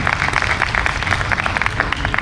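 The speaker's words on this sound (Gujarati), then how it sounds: "એમની સેવાને એકવાર આપણે તાળીઓથી બતાવીએ." An audience at a Swaminarayan katha gathering applauds, a dense, continuous burst of many hands clapping together.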